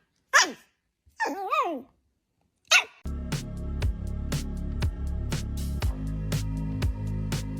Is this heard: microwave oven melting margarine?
no